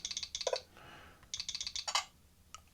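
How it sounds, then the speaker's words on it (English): Rapid tapping while typing a passcode on a Nintendo Switch, two bursts of quick, close clicks separated by a short pause. "I need to type in a passcode."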